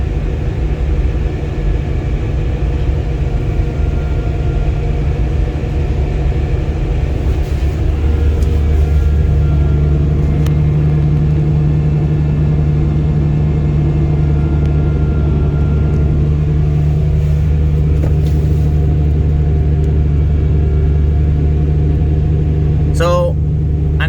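A Fendt 1050 tractor engine holds a steady, loud low drone at around 1500 rpm throughout, with a brief higher tone near the end.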